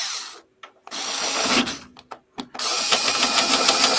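A power drill bores into an old 1970s glass fuse holder in short bursts, stopping and restarting several times before a longer steady run, loud and close with rough grinding texture.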